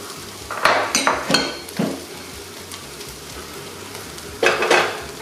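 Garlic sizzles in a hot pan while a utensil scrapes and clinks against the metal in a few short bursts, the frying hiss lasting throughout with no voices.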